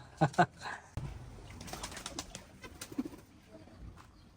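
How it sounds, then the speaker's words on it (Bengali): Pigeons coo a couple of times up front, followed by a burst of wing flapping and soft rustling as birds take off nearby. "দেখো দেখো কবুতর কি রকম করতেছে ফ্লাইং করতেছে"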